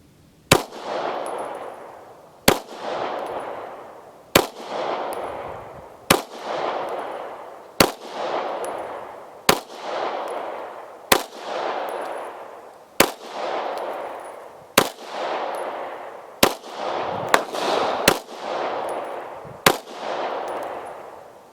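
An FMK 9C1 G2 9mm pistol fires about a dozen sharp gunshots at a steady pace, each followed by a ringing echo tail. The shots come closer together near the end, loud and near with no talk.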